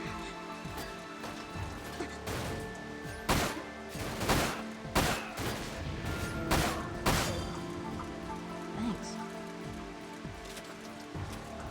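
Volleys of gunfire in the shooter Dirge of Cerberus: repeated sharp bursts of shots, some in quick clusters, rise over a steady, crackling background that runs throughout.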